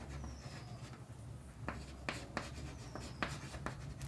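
Pen writing out a math solution on paper, heard as soft scratchy strokes and light taps close by in a quiet room, the strokes coming in short irregular bursts.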